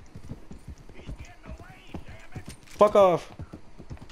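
Rhythmic clip-clop hooves of a galloping horse in a video game drum steadily throughout, with a sharp whinny near the end, while players talk and swear over the action.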